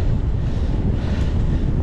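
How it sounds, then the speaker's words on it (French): Strong wind blows from land out to sea on a coast at the island of Noirmoutier, buffeting the microphone with a steady, dense rumble throughout. "il y a bien du vent"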